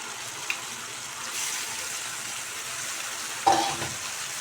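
Half a kilo of cleaned chicken goes into a pan of sautéed onions for a chicken gravy. A steady, moderate sizzle runs throughout, with a sharper crackle and splash near the end as the pieces hit the hot oil.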